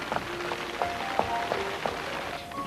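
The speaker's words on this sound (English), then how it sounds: "It's pouring down." Heavy rain pouring down steadily on a dark evening, a dense continuous hiss with scattered drips and small tonal noises on top, no voices.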